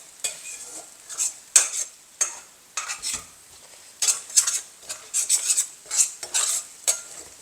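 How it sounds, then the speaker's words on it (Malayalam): A utensil stirs scrambled egg in a pan in quick, repeated scraping strokes, close and clear, over a light sizzle, with no one talking. "അത് നന്നായിട്ട് ഇളക്കിയെടുക്കണം."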